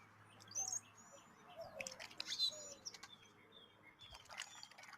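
Pet bird named Pretty Bird chirping, a few quiet high tweets and short whistles scattered over a few seconds amid faint background hum, no talk.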